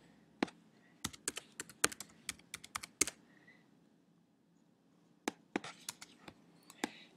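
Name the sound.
typing login details on a computer keyboard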